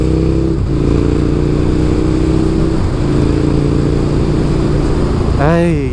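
A KTM Super Duke 1290 R, a V-twin naked bike, runs at a steady loud drone while being ridden, with a brief rev rising near the end and a voice talking over it.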